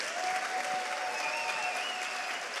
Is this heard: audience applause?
yes